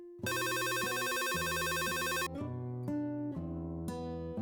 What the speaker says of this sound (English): the painter's landline phone rang